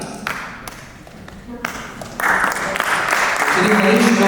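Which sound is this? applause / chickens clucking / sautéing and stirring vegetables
applause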